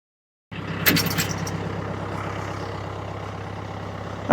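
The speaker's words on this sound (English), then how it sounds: "we're going to use the front end loader the same way we pulled it out of the truck" A tractor with a front end loader starts up after a moment of silence and then idles with a steady diesel rumble, close and continuous.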